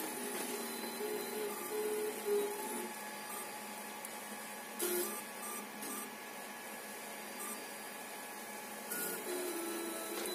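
A Makeblock MegaPi XY plotter draws text, giving a quiet, steady mechanical whir with faint motor tones and a few brief louder movements throughout.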